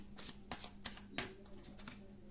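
Tarot cards are shuffled by hand in several quick, soft riffling bursts, close and quiet, with light snaps between as cards are handled and drawn.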